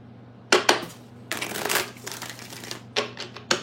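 A deck of tarot cards is shuffled in several quick, crisp riffles and bursts, close and fairly quiet, with short pauses between them and no talking.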